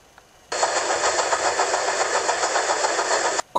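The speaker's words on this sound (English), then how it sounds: "The engine of a car was sounding to her ears." A car engine starts abruptly and runs with a loud, steady roar for about three seconds, then cuts off sharply, with no talking.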